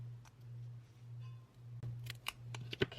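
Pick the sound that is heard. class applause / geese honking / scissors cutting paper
scissors cutting paper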